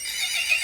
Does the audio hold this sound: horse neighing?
yes